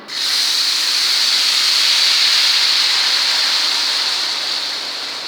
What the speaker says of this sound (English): When suji turn into golden brown color, then pour carefully sugar water into roasted suji.